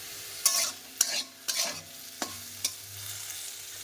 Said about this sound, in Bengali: এই তো সবজিটা ভাজা হয়ে গেছে